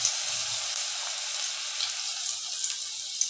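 Onion paste hits hot oil in a pan, where fish was fried first, and it gives a steady, close, bright sizzle with faint crackles throughout and no talking.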